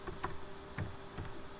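C# code is typed on a computer keyboard in a few quiet, close, sparse keystrokes, with no talk.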